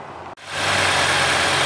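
A Ford Fusion's 2.0-liter inline-four hybrid engine runs, a steady, even idle hum that swells in after a brief silent gap and holds loud and close with no talk over it.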